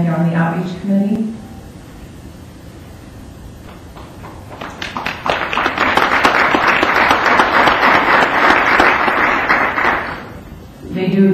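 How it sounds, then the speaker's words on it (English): Audience applause at an evening city council meeting, rising from sparse claps into a steady burst of clapping that lasts several seconds before fading out, with brief talk at the start and end. "It's worth the applause."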